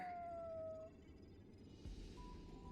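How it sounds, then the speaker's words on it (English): A muffled cat meow in a fantasy video game sounds as a faint, thin, drawn-out falling cry, followed by a quieter held tone over a soft background hum. "It sounds like a cat."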